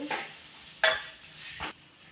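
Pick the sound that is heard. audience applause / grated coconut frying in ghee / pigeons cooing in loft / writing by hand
grated coconut frying in ghee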